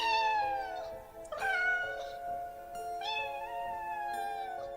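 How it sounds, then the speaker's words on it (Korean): A cat meows several times in an office, with long, loud, wavering cries rising and falling in pitch, heard close and alone with no other sounds. "사무실 안에서 고양이 울음소리가 들려왔습니다."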